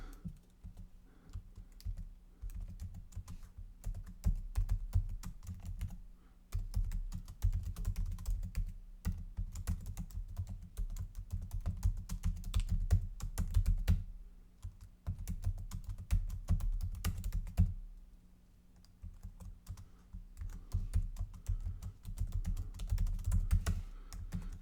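Typing on a computer keyboard, rapid clattering keystrokes in bursts with short pauses, close and fairly quiet, with no talking.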